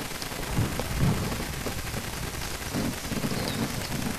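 Armstrong gun cannons fire in a Total War: Shogun 2 battle, a dense rumbling barrage of booms and crackles mixed with battlefield noise, sustained and fairly loud throughout.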